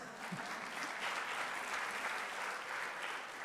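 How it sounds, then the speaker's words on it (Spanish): At a VeneChat talk event, a crowd gives an even, unbroken round of clapping that is somewhat soft and distant for the whole stretch. "un aplauso para Sherezade"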